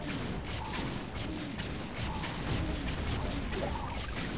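Enemy guns fire in Sly 3: Honour Among Thieves, a string of repeated thudding shots and impacts over busy game noise, moderately loud and fairly even throughout.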